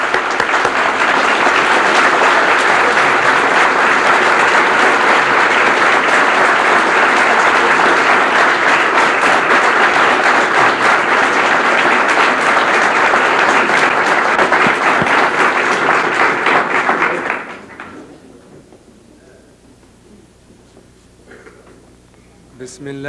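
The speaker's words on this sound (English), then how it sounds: "Let's bring him on with a warm round of applause." Audience at a 1986 Louis Farrakhan address breaks into loud, sustained applause, a dense roar of clapping for about seventeen seconds before it abruptly drops to a quiet room.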